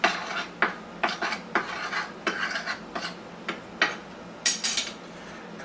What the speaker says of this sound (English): Now I stir this up a little bit.